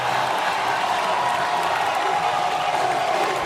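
Frenzied home crowd at a college football stadium under the lights, a dense continuous roar of cheering and noise, steady and loud from start to finish.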